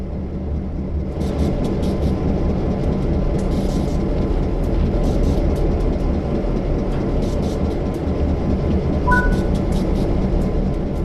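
Train and hopper cars on the Clinchfield Railroad in Train Sim World 3 give a steady, loud rumble of rolling rail stock with clanking, and a brief two-tone horn-like whistle near the end.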